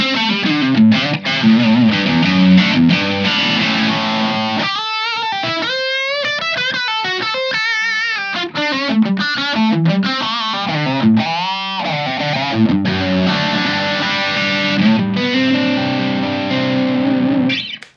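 An electric guitar plays through a Blackstar Dept. 10 Dual Distortion valve pedal with a room mic blended in, loud saturated chords alternating with single-note lead lines, full and roomy, ending on a fading chord.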